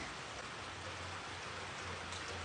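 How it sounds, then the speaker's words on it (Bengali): Rain falls steadily on a soaked street on a cold, windy winter night in Germany, a dense, even hiss of drops on wet pavement with no voices. "বৃষ্টি হইতেছে না? কি সুন্দর একটা সাউন্ড!"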